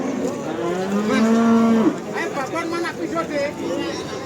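Cattle lowing at a livestock market, one long drawn-out moo rising and holding, followed by shorter calls amid lively background chatter and crowd hubbub.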